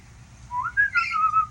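A small bird sings from a nearby bottom step, giving a short run of clear rising and falling whistled notes over a faint background hum.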